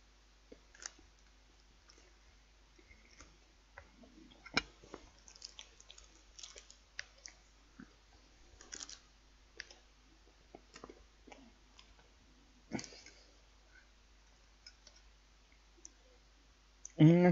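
Out-of-date Cadbury Yule log chocolate cake being chewed close to the mic, with soft, irregular crunchy clicks and mouth sounds over a quiet background.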